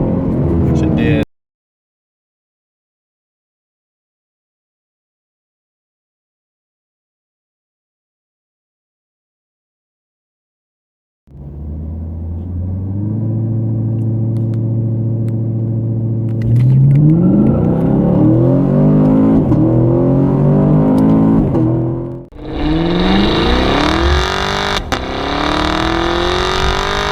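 A 2016 Camaro SS runs a 0-60 launch: after a long silence the V8 holds steady revs, then accelerates hard through rising gear pulls, loud and close, with talking over parts of it.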